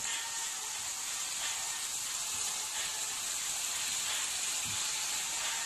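Chunks of taro, cut into large nimki-style shapes, fry in hot oil in a wok, giving a steady, even sizzle and hiss throughout with no talking.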